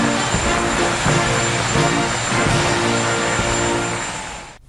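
A departing helicopter carrying Donald and Melania Trump from Washington roars with a loud, steady engine and rotor drone that fades slightly and cuts off at the end.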